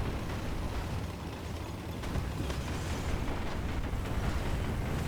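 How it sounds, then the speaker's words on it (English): Artillery shells land around a Japanese Type 4 Ho-Ro self-propelled gun in War Thunder, a steady wash of rumbling, crackling blasts and low mechanical clatter with no distinct single impacts standing out. "here comes the artillery fire"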